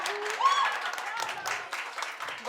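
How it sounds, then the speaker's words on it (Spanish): An audience applauds at the close of a motivational talk, clapping running along under voices that speak and call out over it, with a high whistle-like cheer rising early on. "te queremos dar este aplauso"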